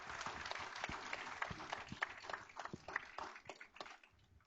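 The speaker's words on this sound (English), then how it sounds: "So we could just give all of the students that participated a big round of applause." Applause at a school board meeting for participating students, a modest room of hands clapping in a quiet, thinning patter that fades out toward the end.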